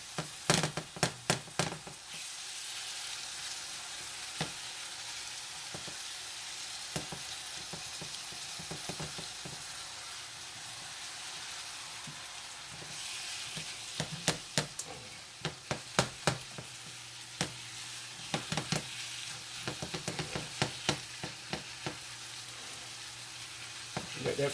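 Toast and tomato-sauce topping frying in a pan for a baked lasagna appetizer, a constant sizzle with bursts of sharp scraping and clacking from stirring, no talking.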